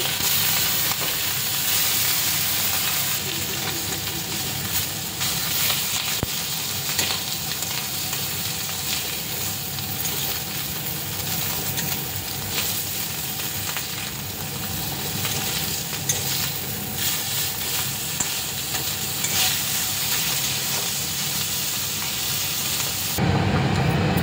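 Fish fries in a pan with a loud, unbroken sizzle and crackle, close up, punctuated by occasional stirring or turning sounds, with no one speaking.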